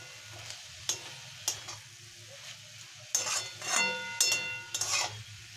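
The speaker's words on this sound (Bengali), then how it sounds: "নাড়িয়ে দেব।" Khesari greens with peas and eggplant stirred in a sizzling pan, a spatula scraping and knocking against the metal in irregular strokes over a soft steady fry.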